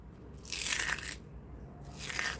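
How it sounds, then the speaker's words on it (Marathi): Crisp barnyard millet (bhagar) kurkure crunch loudly up close in two distinct bursts of brittle crackling, separated by a short pause, with no talking. "मस्तच कुरकुरीत असे हे भगरचे कुरकुरे आपल्या इथे तयार झालेत"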